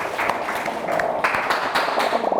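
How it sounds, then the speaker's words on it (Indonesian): Classroom applause from students at a teacher training session, a steady patter of many hands clapping at close range, with a voice briefly heard over it. "Tepuk tangan dulu untuk kita semuanya"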